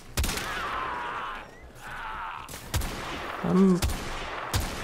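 Gunfire during a Warframe video game boss fight: several sharp, loud shots over a busy game soundscape, with a brief spoken word.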